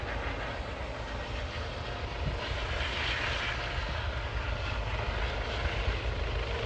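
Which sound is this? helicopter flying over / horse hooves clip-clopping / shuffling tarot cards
helicopter flying over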